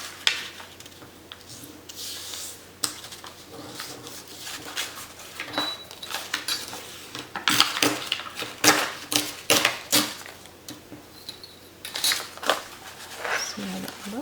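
Scissors snip and rasp through paper being trimmed for junk journal signatures, a run of close, irregular cutting and rustling sounds in bursts against a quiet room.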